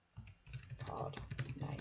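Fingers type quickly on a computer keyboard, a short burst of soft clicking keystrokes close by, faint and uninterrupted.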